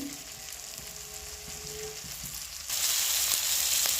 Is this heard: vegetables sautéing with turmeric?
yes